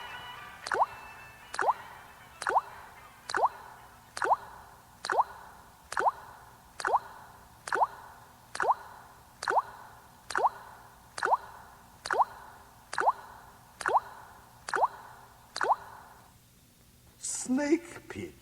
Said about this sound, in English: The ancient Chinese water torture. Good to the last drop.